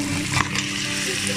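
Chicken sizzles and fries in a pan with chicken masala and garam masala, a steady loud hiss with a brief stirring scrape.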